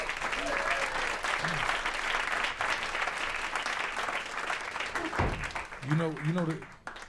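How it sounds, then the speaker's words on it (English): Full audience applause at a live podcast recording, dense and continuous throughout, with voices calling out and talking over the clapping. "Give them another round of applause"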